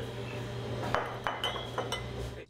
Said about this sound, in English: The sound of beer bottles clinking behind the bar